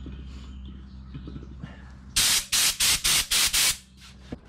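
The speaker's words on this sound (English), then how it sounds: "Blow all the dust away from her." Six rapid bursts of compressed air blast from a small air blower fed by a converted propane tank, each loud hissing puff cut cleanly short, following a low background hum.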